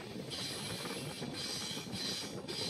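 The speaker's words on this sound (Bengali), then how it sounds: "এদিক থেকে চলে আসছে এখন তিরুপতি কোয়েম্বাটুর ইন্টারসিটি এক্সপ্রেস" The Tirupati–Coimbatore Intercity Express rolls into Jolarpettai station on a rainy day, a steady rumble of wheels and rail noise with a soft hiss, fairly faint and continuous.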